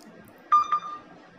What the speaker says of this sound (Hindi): इस फोन का जो साउंड है गैस वो यहाँ पर रिंग होना स्टार्ट हो चुका है